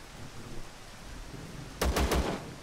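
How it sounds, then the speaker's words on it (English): Gunfire in the Zero Sievert video game: after a quiet rumbling ambience, three quick loud shots ring out close together near the end, with no talking. "Somebody's trying to shoot me."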